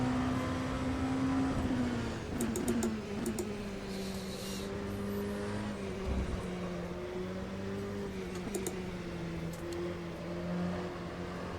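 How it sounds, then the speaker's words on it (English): A V8 race car engine revs steadily in the rFactor 2 racing game, a sustained droning whine whose pitch rises and falls smoothly with occasional brief shifts, loud and continuous throughout with no talking. "Bit more scream from this V8."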